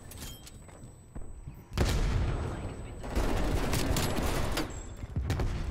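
Dense bursts of gunfire in a Black Ops Cold War match, snakeshot dual-wield magnums and an M16 firing in a fight over B flag, loud sustained volleys with short gaps, close to the listener.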